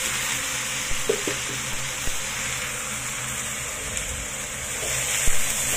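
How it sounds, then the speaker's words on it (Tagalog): Carrot, cabbage, celery and pechay fry in a pan for noodles, giving a steady, close sizzle that runs throughout with a few small pops and clinks of stirring. "So, ngayon nilalagay ko na ang gulay."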